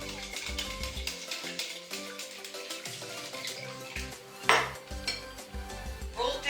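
Egg yolks are mixed for lemon cream, with a utensil clinking and scraping against a bowl in irregular close taps and one louder knock, under faint background music and with no speech.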